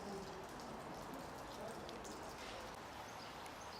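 Steady rain patters outside the Church of St Mary, Harmondworth, a faint, even hiss of drops on surfaces with no breaks or distinct events.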